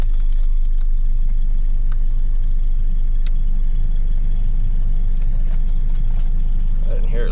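A car engine rumbles steadily while driving, a low, constant drone with road noise, heard from inside the vehicle.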